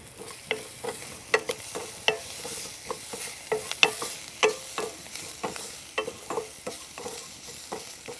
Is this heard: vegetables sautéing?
yes